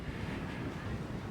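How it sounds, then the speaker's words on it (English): Wind buffeting an outdoor camera-mounted microphone, a low rumbling roar that runs continuously through the brief moment, fairly close and steady with no speech. "It's pretty windy out here."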